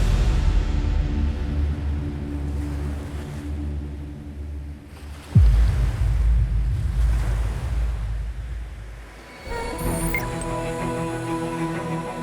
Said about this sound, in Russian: Дальше только океан.